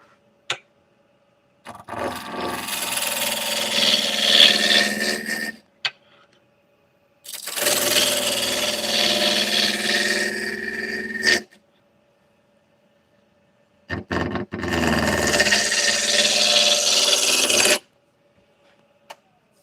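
Roughing gouge cutting a wooden bowl spinning on a lathe, three long rasping scraping passes of several seconds each, separated by near-silent gaps, close and loud.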